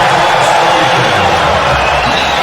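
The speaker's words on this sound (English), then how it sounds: "Crowd eating it up." A basketball arena crowd at a Lakers–Jazz game roars after a blocked shot, a loud, dense, sustained wash of cheering that fills the whole moment.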